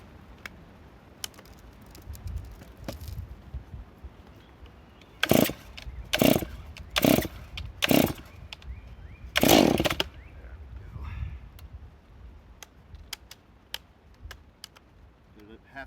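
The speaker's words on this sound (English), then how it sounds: "it's been a few months since I started the saw up, so let's see how she goes" An old steel chainsaw is pull-started after months of sitting, with decomp engaged, near a pile of big oak rounds: five short, loud bursts of cranking and sputter at a ragged rhythm, then a quiet yard with faint background noise.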